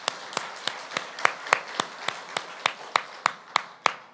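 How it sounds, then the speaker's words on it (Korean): A church congregation claps together in a steady, even rhythm, about fourteen sharp, distinct claps in four seconds, fairly close and clear against a quiet background. "여러분과 함께 박수."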